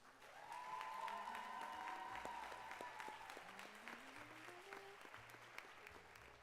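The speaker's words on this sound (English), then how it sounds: "Let's give her another round of applause." Applause from an audience at a pre-commencement ceremony, steady and fairly full throughout, with music or a sustained tone sounding underneath.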